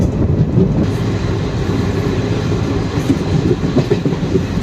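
A Salem–Karur passenger train runs steadily, with a continuous loud low rumble of the carriages and faint clickety-clack from the wheels throughout, and no talk.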